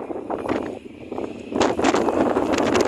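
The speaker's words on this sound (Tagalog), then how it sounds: "Lakas na naman ang hangin." Strong, cold wind gusting across a small footbridge near Tseung Kwan O Bridge, buffeting the microphone in loud, rough rushes that swell stronger midway and stay heavy, with no talk.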